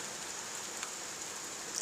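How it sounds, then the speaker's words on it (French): Steady rain falls during a moderate thunderstorm in Carpentras, a continuous even hiss of drops with a faint patter, no thunder or voices within this short stretch. "Il pleut."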